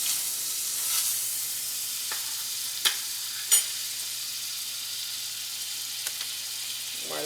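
Butter sizzles steadily in a hot skillet, with a constant bright hiss and a few sharp pops and crackles scattered through, heard close with no talking.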